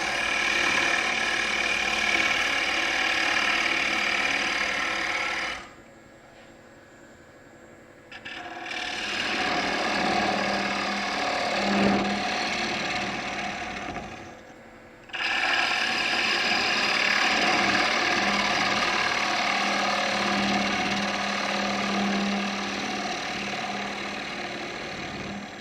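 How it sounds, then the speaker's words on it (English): Wood turning on a lathe while a wine caddy is hollowed out makes a steady scraping, rasping drone. It stops twice for a couple of seconds and then resumes, and there is no talking. "Now I'll go back and continue hollowing a little of that out."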